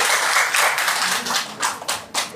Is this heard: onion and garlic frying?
no